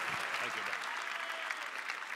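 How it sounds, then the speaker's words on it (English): Applause rises from a convocation audience welcoming a campus pastor, a continuous crowd clapping held at moderate distance, with a few low voices underneath at the start. "Let's give him a big round of applause"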